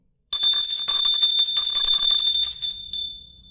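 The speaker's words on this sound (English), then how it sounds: "Just then, the school bell rang." An electric school bell rings loudly and continuously for about two and a half seconds with a bright metallic tone, then stops with a short final clang that fades away.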